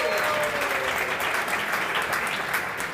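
A studio audience on a television show set claps steadily in dense, sustained applause that stays loud and even for the whole stretch.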